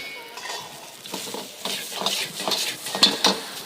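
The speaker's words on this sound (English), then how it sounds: "I'm tossing it to combine the flavors of the meat and vegetables with the rice" Fried rice with cooked meats and vegetables is tossed in a pan, giving close scraping and stirring scrapes, light sizzling, and a couple of sharp metallic clinks toward the end.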